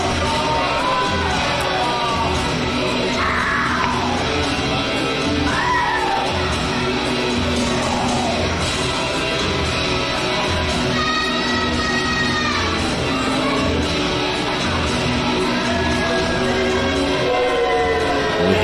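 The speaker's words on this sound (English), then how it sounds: "You hear the crowd's disdain for the Emperor." Wrestling arena crowd at an AWW British Championship event, a dense roar of voices jeering and shouting throughout, with scattered yells rising above the steady din.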